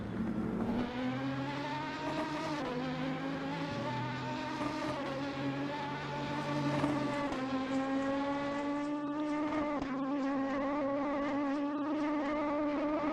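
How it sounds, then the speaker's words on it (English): Race cars in a multiclass endurance event at Interlagos in a racing sim video game, engines whining in sustained harmonic tones that rise and shift with gear changes, several cars droning together without any talk. "Man, these cars do sound phenomenal though."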